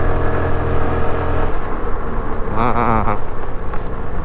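A Suzuki Avenis 125 scooter engine idles, then revs up in a short throttle blip with a rising whine before settling, heard close and fairly loud, with someone speaking briefly.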